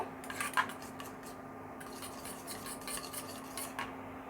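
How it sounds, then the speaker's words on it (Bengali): Beaten egg is mixed with an onion spice mix in a bowl for Mughlai paratha filling, giving quiet, repeated clinks and scrapes of a utensil against the bowl. "একটা ভাগ দিয়ে দিলাম ডিমের সাথে। দিয়ে খুব ভালো করে এটা মিক্স করে নেব।"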